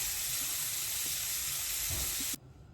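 Blackened mahi mahi fillets sizzling in a pan for fish tacos, a steady loud close hiss of frying that cuts off abruptly near the end, leaving quiet room tone.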